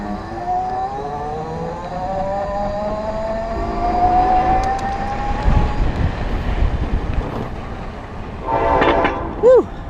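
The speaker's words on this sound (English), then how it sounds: "the train going by" A train rolls past nearby with a horn blast, its rumble building and fading under the hum of a fast-accelerating American Electric RE e-bike, wind noise sweeping across, and a brief sharp squeal near the end.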